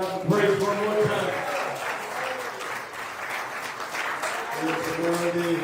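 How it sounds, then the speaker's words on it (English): A church congregation claps hands in praise, a steady burst of applause with voices calling out over it at the start and end. "give the Lord a hand clap of praise one more time."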